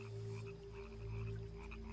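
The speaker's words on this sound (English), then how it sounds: "This Australian rocket frog is among the most impressive jumpers." Australian rocket frog croaking in a steady, continuous low-pitched drone, close and fairly loud, with no talk over it.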